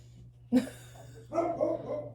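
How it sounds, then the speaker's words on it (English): A dog barks indoors at home, two short bursts of barking about a second apart, fairly close, over a steady low electrical hum with no talking. "sorry for the dog"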